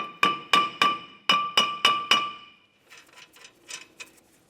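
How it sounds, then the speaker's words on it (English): A hammer strikes a stuck brake rotor on a 2006-2011 Honda Civic about eight times in a steady rhythm, each tap ringing briefly, followed by softer scraping and clinking. "go ahead and give it a couple taps with a hammer"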